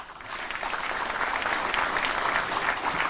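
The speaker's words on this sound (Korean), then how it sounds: "여러분 큰 박수 보내주십시오." Audience applause at a formal ceremony, a broad, even swell of many people clapping that rises quickly and stays full and steady without voices.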